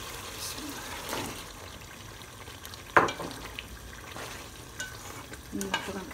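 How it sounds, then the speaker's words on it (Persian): Chickpeas frying in oil in a pan while cooking chana pulao, a steady soft sizzle with occasional stirring scrapes and a sharp clatter partway through. "نخود هم که سرخ شد"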